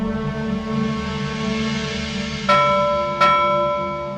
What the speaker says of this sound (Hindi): मैं कहती हूँ बंद कर घंटी बजाना